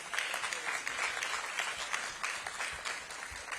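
An audience at a mayor's program launch event applauds steadily for a few seconds, a dense, moderately distant wash of claps with no voices over it.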